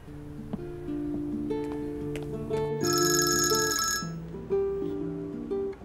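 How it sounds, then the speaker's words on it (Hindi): A ringback tone on an outgoing telephone call over a soft melodic background, with a bright electronic burst partway through, steady and moderately loud. "सवेरा बात सुनो, मैंने उससे पहले फोन किया था। चलो अब दोबारा करते हैं।"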